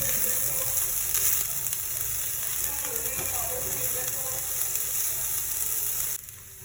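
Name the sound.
broccoli frying and stirred in a pan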